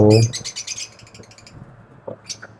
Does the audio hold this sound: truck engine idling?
no